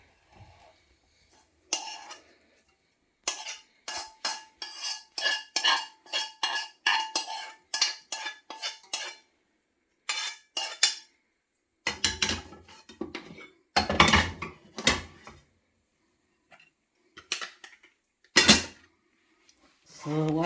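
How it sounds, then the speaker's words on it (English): Vegetables (carrots, corn, green beans, sweet peppers, red onion) being mixed with rice in a pot: bursts of spoon scraping and clanking against the metal, separated by quiet gaps, heard close up. "So I'm mixing the vegetables and the rice"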